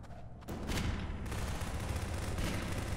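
Rapid bursts of gunfire in the video game Garry's Mod, loud sustained automatic shooting after a brief quiet start, with no talk over it.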